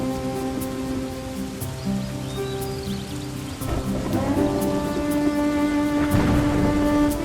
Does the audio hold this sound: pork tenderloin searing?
no